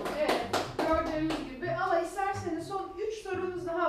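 Brief burst of hand clapping from a small group applauding a quiz game winner, fading quickly as voices start talking over it.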